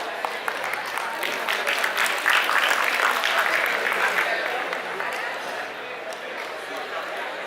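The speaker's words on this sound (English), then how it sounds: "Let us mark this with a huge round of applause" A keynote speaker is welcomed by an audience with loud, sustained applause from a crowd, the clapping swelling in the middle and slowly fading toward the end.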